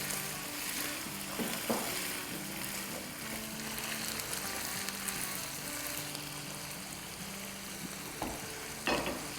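Small diced potatoes with skins on sizzle steadily in a hot pan for aloo matar pulao, a continuous close frying crackle with occasional stirring scrapes and no talking.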